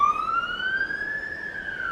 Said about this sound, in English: There's another siren coming.